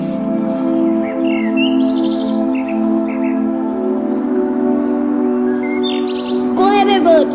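Bird chirps and tweets ring out in short bursts at a school class activity with a scarecrow guarding crops, set over a steady sustained tone with a brief voice-like call near the end.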